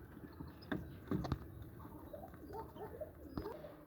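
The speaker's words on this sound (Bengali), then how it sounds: "তো চলুন ভিতরে কবুতরগুলো দেখে আসা যাক।" Pigeons in a loft give soft, low cooing calls several times over a few seconds, fairly close, with brief flutters and patter among them and no talk.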